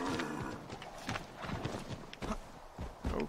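A horse arrives in the video game Assassin's Creed 3, with quick clip-clopping hooves drawing near and a whinny, fairly loud and heard on its own without talk.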